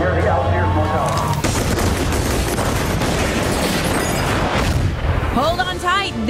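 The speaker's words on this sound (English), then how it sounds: "Shots fired" Heavy gunfire from the Detroit movie trailer about the 1967 Algiers Motel incident, dense booming shots and bursts layered with dramatic music and voices throughout.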